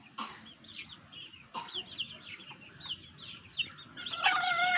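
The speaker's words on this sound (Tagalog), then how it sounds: "puro na Chinese chicken yan guys" Chinese chickens and native crossbreed chickens clucking close by, a run of soft, repeated calls with a sharper louder squawk near the end, no talk.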